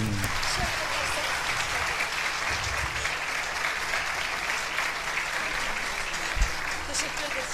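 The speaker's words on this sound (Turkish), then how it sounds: "Kuvvetli alkışlar." Strong applause from the audience at a spring festival talk as a performer is called to receive a plaque, a dense, continuous wash of clapping lasting throughout.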